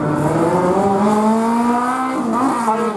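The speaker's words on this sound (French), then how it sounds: "Alexis Leblanc qui vient de s'élancer." A slalom race car launches from the start, its engine revving hard with rising harmonic pitch that climbs steadily, a brief gear-change dip near the end, loud and close throughout with no talk.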